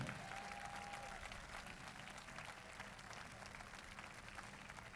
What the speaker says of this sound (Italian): L'applauso bellissimo per Benito.